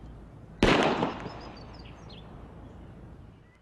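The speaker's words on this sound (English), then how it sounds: "As you can see, it can be shot accurately and effectively from a distance of more than" A single sharp .40 caliber pistol gunshot fired outdoors at a target over 100 yards away, a sudden loud crack followed by a fading tail, with faint bird chirps in the background.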